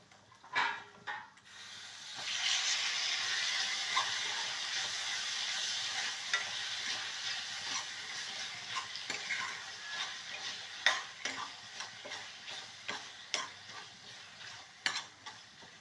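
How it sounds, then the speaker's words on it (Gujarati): Sev stirring in melted jaggery and ghee in a pan, a continuous soft sizzle with repeated scraping strokes of the spoon against the pan, close and steady for several seconds, with no talking. "ગોળ ઓગળી ગયો. હવે સેવ નાખીએ એમાં."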